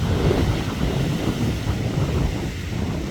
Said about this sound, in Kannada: ಗಾಳಿ ವಿಪರೀತ ಇದೆ